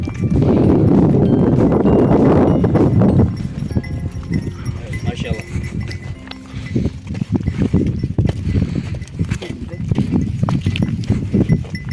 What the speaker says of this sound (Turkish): Koyunlar susadı biraz. Oraya doğru koşmaya başladılar.